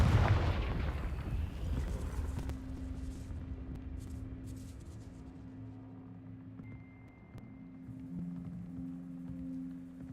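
A Confringo fire blast spell bursts in Hogwarts Legacy, opening with a loud booming explosion that fades into a rumbling decay and a low humming tail.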